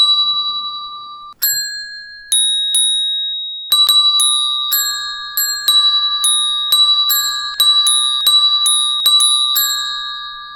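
Bright bell dings ring out alone in a quick, uneven run of about twenty strikes, some overlapping, each chime clear and close with a short ringing decay.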